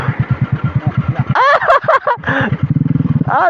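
An overheated Suzuki Supra/Vega motorcycle engine sputters in a rapid, uneven chug that dies out, then cranks again with another burst of stuttering pulses. Voices talk over it partway through, close by and fairly loud.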